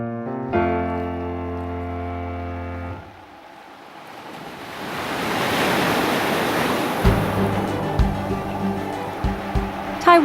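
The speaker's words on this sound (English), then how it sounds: "The best way to understand is to get close to the ocean and listen to the rhythm of the sea." Ocean surf on the coast of Taiwan: a steady, broad roar of waves rising and falling, with a deep horn-like tone early on and some gusty rumbles near the end.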